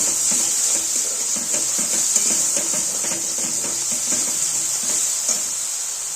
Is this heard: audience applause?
no